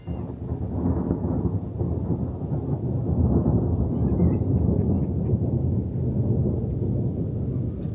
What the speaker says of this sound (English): And the storm coming in.